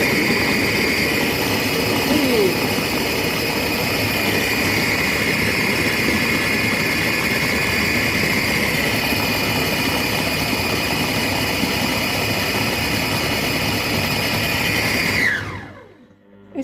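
A Compact Cook Pro multicooker cooks red cabbage soup with its lid closed. Its motor gives a steady, droning whir with a humming tone, then winds down and stops near the end.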